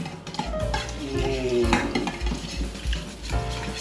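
Vegetables and meat are mixed with marinade in a bowl, making close wet stirring and squelching sounds with clinks of a utensil against the bowl over several seconds.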